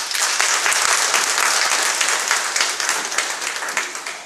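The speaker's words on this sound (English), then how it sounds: "I think they need a big round of applause" Dense audience applause at a school annual function, many hands clapping in a steady, crackling wash that slowly thins and tapers off toward the end.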